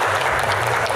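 Dense audience applause at a comedy Q&A show fills the moment steadily and loudly, with no voices over it.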